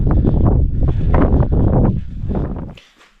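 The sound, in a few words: strong wind on a mountain trek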